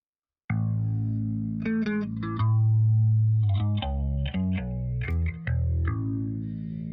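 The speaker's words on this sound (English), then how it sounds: "So the bass I did on my own on that, and this is what that sounds like." Indie-pop bass guitar line with a chorus-like, effected tone, playing sustained low notes and short melodic runs, clear and upfront with no voices over it.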